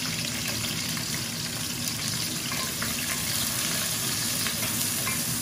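Fish, green chili and onion fry in a pot with a steady, bright sizzle and bubbling hiss, fairly close and even in loudness, with no voices over it.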